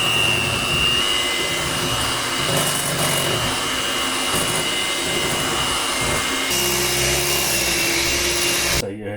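A handheld electric mixer hums continuously at low speed while whipping cream for a year-end holiday cake, a steady close drone with a slight shift in tone partway through, running alone until it cuts off at the end.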